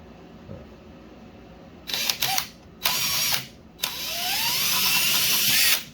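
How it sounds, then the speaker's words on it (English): A power drill bores out parts of an engine block being readied for babbitt, several short whirring bursts separated by pauses, then a longer steady drilling run, close and loud, with no talk. "I'm going to drill these out."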